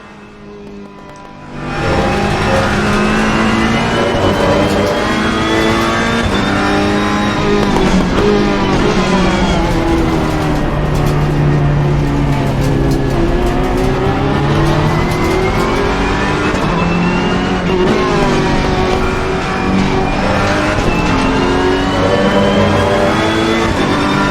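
GT race car engine in a racing sim game, a continuous loud roar that starts after a quiet first two seconds, with pitch climbing and falling through gear changes and no talk over it.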